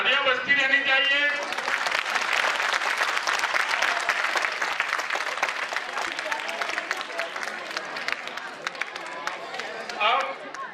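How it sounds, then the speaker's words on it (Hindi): Sustained audience applause at a school annual function, a broad and steady roar of clapping lasting several seconds, with a voice speaking at the start and again at the end. "तालियां बजती रहनी चाहिए।"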